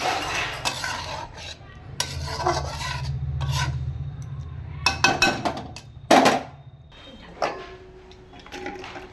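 A spoon scrapes and stirs garam masala into vegetarian potato curry (aloo dum) in a pot, in bursts of rasping strokes with metallic clinks and pauses between them.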